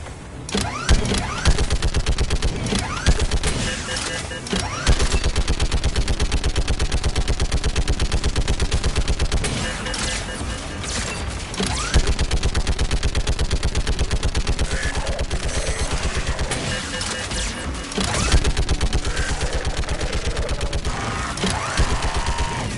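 An anti-aircraft gun in the Mass Effect 3 video game firing in the quarian mission, dense continuous loud bursts of automatic fire with mechanical clatter, steady across the whole stretch with brief dips.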